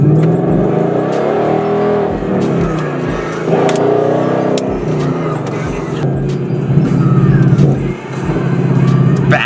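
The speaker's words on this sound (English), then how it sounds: "Backfiring." A 2018 Mustang GT with its mid muffler deleted revs loudly nearby, the exhaust rising and falling through several throttle blips with sharp crackling backfire pops between them.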